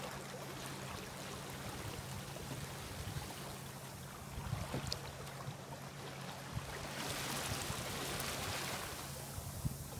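Steady wind rushing across the microphone aboard a small boat on Queen Charlotte Sound, New Zealand, with a low, constant hum and the wash of water underneath throughout.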